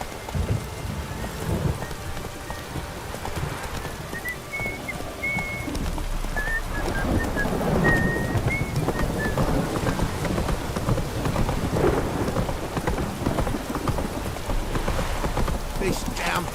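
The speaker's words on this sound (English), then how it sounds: "This downpour's a bastard, it is." Heavy rain pours steadily in The Witcher 3: Wild Hunt while thunder rumbles low beneath it, with a horse nearby and a voice speaking over the storm.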